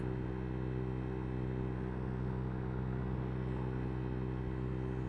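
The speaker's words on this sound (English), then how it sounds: "I'm full throttle right now. In the bike lane." A DongFang 50cc scooter ridden at full throttle in a bike lane, its small engine giving a steady, droning hum under constant wind rumble, with no talking.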